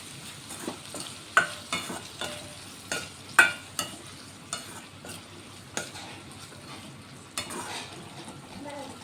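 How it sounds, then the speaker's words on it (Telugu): Bitter gourd stir-fried with green chili and turmeric, a soft steady sizzle under a dozen or so irregular scrapes and taps of a spatula against the pan, close, no talk. "ఒక 2 నిమిషాలు మళ్ళీ ఫ్రై అవ్వనిస్తాం."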